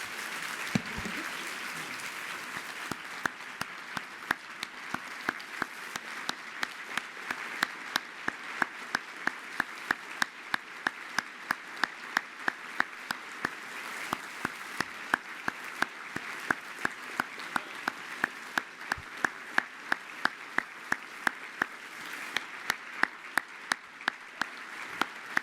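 An audience at the Wild About Harry 2017 event in Kansas City applauds Rep. John Lewis as he receives the Harry Truman Legacy of Leadership Award. The clapping is long and sustained, with sharp individual claps standing out above the crowd.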